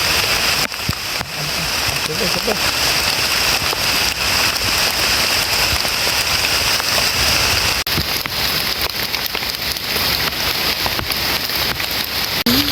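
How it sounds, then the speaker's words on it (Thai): Rain falls in a forest as a loud, constant hiss of drops pattering on surfaces, with occasional voices talking faintly underneath. "ฝนลงเม็ดมา"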